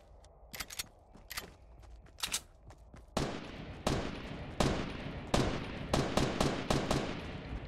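Gunfire in the video game Fortnite: a string of sharp, loud shots with a quieter burst early on, then heavier, evenly spaced blasts through the rest, with no talk.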